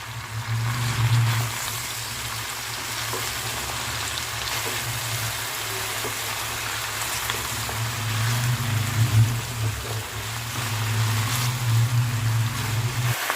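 Mixed vegetables for a labra frying together in a pan over high flame, a dense, steady roar of sizzling oil with a constant low hum beneath, close and loud with no voices.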